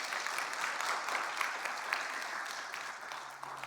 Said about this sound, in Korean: 우리 박수로 환영해 드립시다.